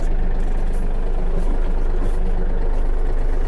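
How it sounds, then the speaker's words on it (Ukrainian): Yanmar RS-300 Hi Speed mini tractor engine idling steadily while it warms up, a constant close low rumble with no voices. "Поки двигун ще догрівається"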